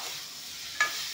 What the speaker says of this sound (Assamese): এতিয়া এইখিনি ভাজি ল'ম।